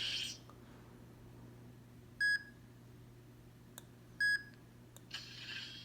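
Matt Saber lightsaber switching sound font: two short electronic beeps spaced about two seconds apart, clear and close against a faint hum, framed by soft rustling handling noise.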